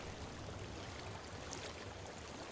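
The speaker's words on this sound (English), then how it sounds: "I hear water." Flowing stream water in the Hellblade: Senua's Sacrifice game, a steady broadband rush that holds even and continuous throughout with a low rumble underneath and no voices.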